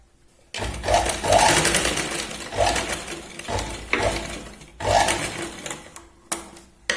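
A sewing machine stitches Katori blouse fabric in several close, loud whirring runs separated by short pauses, each burst starting and stopping abruptly, with no voices over it.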